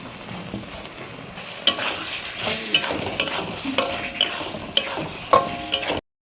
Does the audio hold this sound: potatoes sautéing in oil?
yes